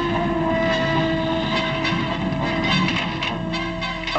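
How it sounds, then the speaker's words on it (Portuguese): An iron ore freight train on the Vale do Rio Doce railway, hauled by five 1,800-horsepower locomotives, rumbles past loudly and steadily, with rail clatter, engine drone and a sustained horn tone throughout. "A ferrovia utiliza tração quíntupla nos trens de minério"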